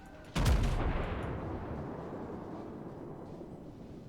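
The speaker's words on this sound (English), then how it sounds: "So we want AP as the next salvo." A single booming naval artillery salvo of armour-piercing shells in World of Warships, fired from the battleship Arizona; one sharp heavy blast followed by a long rumbling decay.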